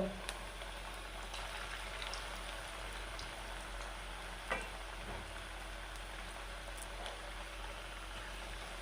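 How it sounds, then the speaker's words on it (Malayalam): Low, steady bubbling and crackle of food deep frying in oil, fairly faint, with a few sharper pops scattered through. "നല്ല എണ്ണ നന്നായി തിളച്ചതിന് ശേഷം മാത്രം ഇട്ട് ഇട്ട് കൊടുത്താൽ മതിയാവും"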